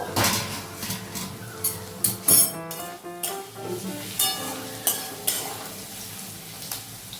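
Vegetables such as potato and carrot fry in a pan for chowmein, a soft continuous sizzle broken by repeated clinks and scraping of a spatula against the pan.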